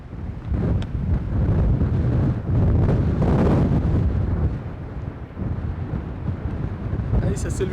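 Strong wind rising fast at a harbour where a foiling sailboat is moored, steady loud buffeting roar of gusts across the microphone, with brief creaks and clatter and a thin whistle near the end.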